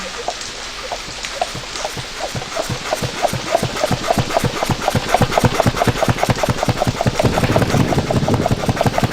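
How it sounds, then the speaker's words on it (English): A rhythmic mechanical engine in the video game Myst III chugs with a steady beat that grows slightly louder, over a soft hiss like rain. "Sounds like an engine is somewhere."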